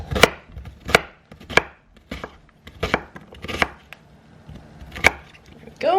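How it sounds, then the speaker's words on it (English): A knife cuts through a large onion half on a board in about nine sharp, separate chops at an uneven pace, close and loud with quiet gaps between. "I'm gonna pre-cut this gigantic half because I can never seem to cut an onion equally"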